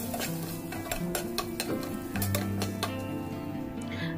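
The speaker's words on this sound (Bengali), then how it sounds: "তেলটা দিয়ে একদমই লো হিটে 4 থেকে 5 মিনিট সুন্দরভাবে নেড়ে নিতে হবে।" Boiled jackfruit seeds stirred in soybean oil over low heat, a quick run of light clicks and taps of a spoon against the pan, close and fairly quiet, with no talking.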